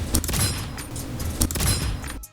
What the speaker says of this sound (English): So the gunshot sound and the headshot sound are much closer together.